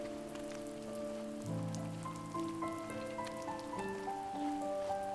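Steady rain falls in the video game The First Tree, a soft continuous patter heard beneath sustained melodic game music that swells partway through, with no voices.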